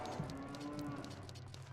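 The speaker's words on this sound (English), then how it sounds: "The cow? Just a random cow sound." A cow mooing in a randomized Zelda: Ocarina of Time game, a single faint drawn-out low moo beneath quiet background game ambience, with no voices.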